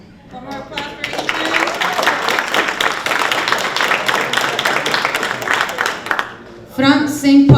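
Audience applause at a graduation ceremony for construction trainees: dense, steady clapping from a crowd fills most of the stretch, then fades, with a voice speaking briefly at the end.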